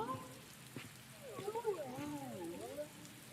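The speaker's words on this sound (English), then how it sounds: "Back out into the rain." Rain falls in the video game Master Detective Archives: Rain Code, a steady soft wash heard under voices and game sounds throughout.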